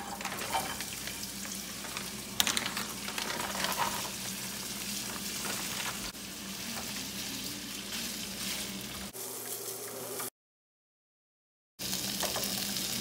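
Beef steak stir frying in olive oil in a pan, a steady bright sizzle with occasional stirring scrapes, close and constant, cutting out briefly near the end.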